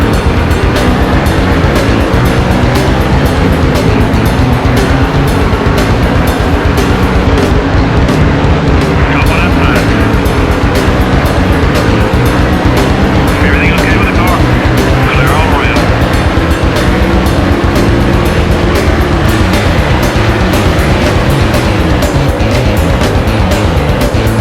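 Race cars roaring as a pack in NASCAR Thunder 2003 on PS2, the Winston All-Star Race at Lowe's, with Mark Martin leading. The engines drone loud and continuously right after the green flag, a steady wall of sound throughout.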